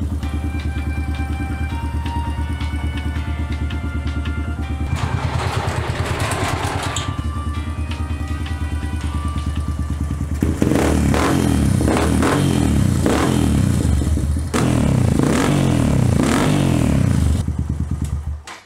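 A Suzuki DR200 fitted with a Nibbi racing carburetor warms up from cold. It idles with a close, steady putter, then revs hard in repeated rising bursts before settling back, and no one speaks.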